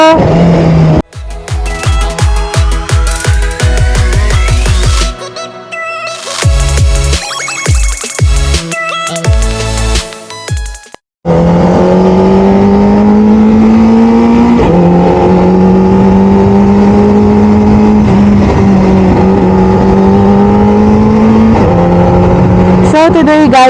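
A CFMoto 500SR Voom motorcycle engine revs hard in rapid bursts, then settles into a sustained steady roar with wavering pitch, close and dominant throughout.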